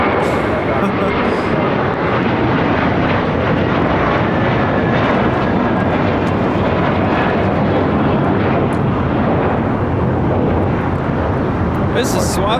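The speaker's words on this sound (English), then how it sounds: "This is Suavemente taking off to Newark. It's JetBlue Airways flight 1374 on an A321." JetBlue Airways Airbus A321 taking off at LAX, a loud, continuous jet engine roar filling the air, with people talking nearby.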